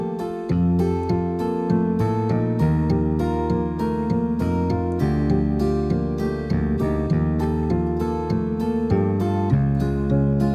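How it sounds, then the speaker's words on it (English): Bass guitar part from a Native Instruments Kontakt factory instrument, a steady run of plucked notes over sustained backing tones, loud and continuous, with no talking. "bass guitar comes in and it sounds like this"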